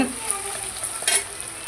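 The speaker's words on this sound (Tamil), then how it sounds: "பாருங்கள் நல்லா வதங்கட்டும் வெங்காயம் நல்லா வதங்கிடுச்சு" Onions sauté in a pan for a fish curry, a soft steady sizzle with a faint stir partway through, heard alone without talk.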